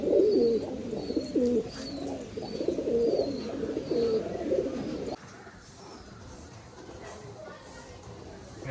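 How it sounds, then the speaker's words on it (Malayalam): Young pigeons coo in a series of low, throaty calls close by while someone speaks over them, then the cooing fades to quieter ambient chirps and faint bird sounds. "ഇതൊക്കെ നമ്മളെ കുഞ്ഞു പ്രാവുകളാണ്, കുഞ്ഞുങ്ങളാണ്"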